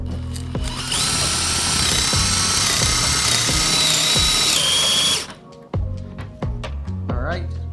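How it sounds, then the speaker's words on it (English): A power drill bores into a piece of scrap wood while a wooden knife is being made, its high, steady whine running loud for about four seconds before stopping abruptly, with a person talking before and after. "I'm going to try to drill inside of the scrap wood first"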